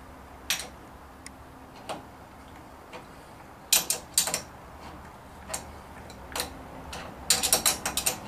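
A large Allen wrench tightens the high-speed spindle on a Grizzly G0705 mill, giving sparse metallic clicks and ratcheting ticks, some single and some in quick clusters, close by in a quiet shop.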